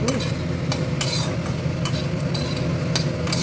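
Curry leaves hit hot oil in a pan while cooking sabudana pulao, giving a steady loud sizzle with scraping stir strokes and a few sharp utensil clinks against the pan.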